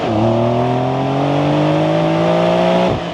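A 2025 Porsche 911 Carrera T with a manual gearbox pulls off, its engine note rising smoothly and steadily for about three seconds before the revs drop sharply as it shifts; loud, close and without talk.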